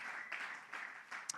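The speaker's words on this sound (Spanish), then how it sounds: "Un aplauso más fuerte al Señor, hermano." Church congregation applauding during a Spanish-language worship service, a steady faint wash of many hands clapping at a distance, with a brief sharper clap near the end.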